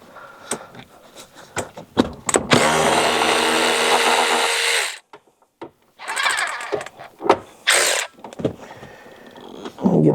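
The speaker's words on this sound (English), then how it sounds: "we're gonna start by removing the 4 bolts to hold the seat in" A power tool whirs loudly for about two seconds while taking out seat bolts in an S197 Mustang, surrounded by clanks, clicks and short bursts of tool noise during the seat removal.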